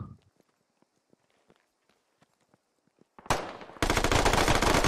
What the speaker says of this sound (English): Oh, Militia whiffs the shots.